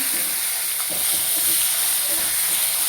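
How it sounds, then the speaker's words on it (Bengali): Potatoes fry in a pan as pointed gourd goes in for an egg curry, giving a steady, close sizzle with faint stirring bumps throughout and no voices. "এখন আলুটা একটু ভাজা হয়ে গিয়েছে, এর সঙ্গে আমি পটল অ্যাড করে দিচ্ছি আজকে"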